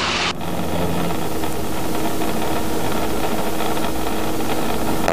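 A Robinson R22 helicopter during a practice autorotation: a loud, steady rushing engine and rotor roar with a broad hiss that begins sharply after a brief opening burst and holds evenly, with no voices.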